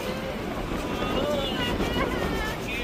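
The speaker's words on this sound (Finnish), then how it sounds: "Täällä tuulee." Wind gusts and buffets hard against the microphone outdoors in Tikkurila, a steady loud rumble with no talk over it.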